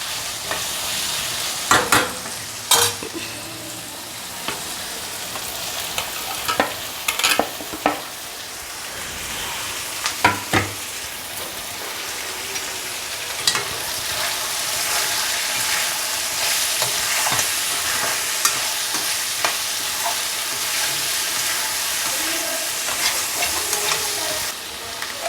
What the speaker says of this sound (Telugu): ఇప్పుడు తెల్లగడ్డలు, కరింపాకు, పచ్చిమిరపకాయలు, అల్లం వేసుకొని కొద్దిగా వేయించాలి.